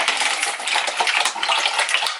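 Water pours steadily into the plastic reservoir of a Keurig coffee maker in a home kitchen, a close, constant splashing gurgle with faint clinks, lasting about two seconds without speech.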